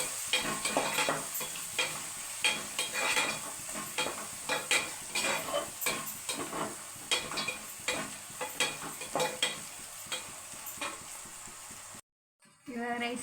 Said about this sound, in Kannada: ಇವಾಗ ರೈಸ್ ಹಾಕಿದ್ದೀನಿ ನೋಡಿ ಫ್ರೆಂಡ್ಸ್, ಮಿಕ್ಸ್ ಮಾಡ್ಕೊಳ್ತೀನಿ